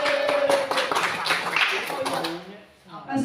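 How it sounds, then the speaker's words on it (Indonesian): Audience applause at a school orientation event in Cibedug, Ciawi, Bogor, with steady clapping filling the hall while voices talk over it. "Tepuk tangannya dong"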